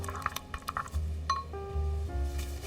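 Yogurt mixed with minced garlic and lemon juice in a bowl, a spoon clinking against the side with a few soft wet stirs, close and quiet.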